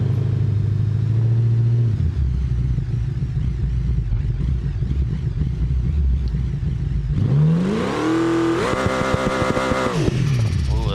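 Drag car engine in the BeamNG video game, rumbling at idle, then revving hard in rising and falling sweeps, loud and close with no talk.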